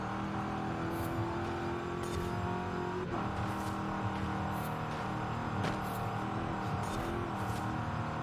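A Ford Crown Victoria police car's engine pulls hard under steady acceleration, a continuous loud drone with a shifting pitch and a few brief higher bursts, heard from inside with no talking.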